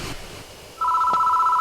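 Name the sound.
phone ringing in video game Death Mark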